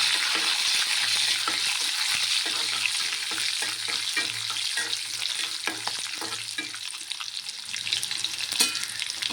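Tempering spices, garlic cloves and curry leaves crackle and sizzle in hot oil in a pan for a bitter gourd fry, with steady frying hiss, intermittent stirring scrapes and sharp pops, close and unvoiced.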